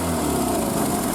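A Triumph Spitfire engine runs at fast idle after a long period of hibernation, producing a steady, close, buzzing drone.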